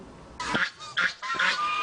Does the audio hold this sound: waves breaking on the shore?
no